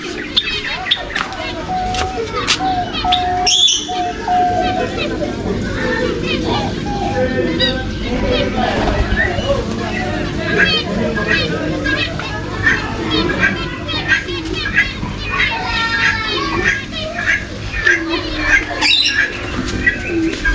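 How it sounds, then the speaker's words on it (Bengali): Small birds chirp and tweet in quick, high bursts throughout at a zoo in Sreemangal, mixed with the lively chatter and shouts of children playing nearby. "ছোট্ট ছোট্ট পাখি"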